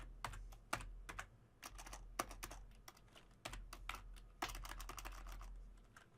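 Typing on a computer keyboard, quiet irregular bursts of crisp key clicks close by, with short pauses between flurries of keystrokes.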